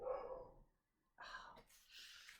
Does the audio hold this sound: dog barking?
yes